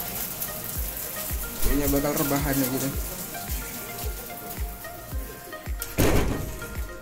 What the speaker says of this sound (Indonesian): Di luar lagi hujan.